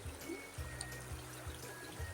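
A shallow river trickles and burbles over rocks, a quiet steady water wash with faint low thumps recurring, distant and soft throughout.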